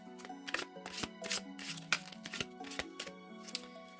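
A small deck of rune oracle cards is shuffled and drawn up close, a steady run of crisp riffling flutters and soft slaps, with a few quick card snaps standing out between them.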